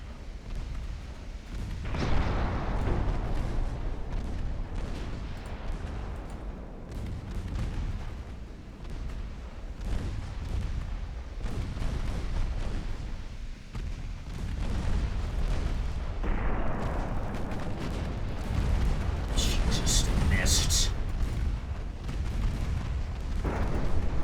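Naval guns thunder in a Dutch campaign battle of Ultimate Admiral: Dreadnoughts, heavy booming salvos and rumbling blasts rolling almost continuously, loud and dense, with no talking.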